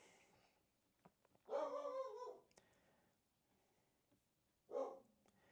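A dog barks in two bursts, a longer run of barks followed after a pause by a shorter one, moderately loud over a quiet room.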